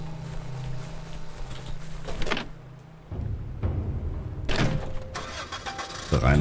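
A car in the video game Dead Island starts up, with a low engine rumble settling into a steady idle and a couple of louder mechanical surges, close and without talking.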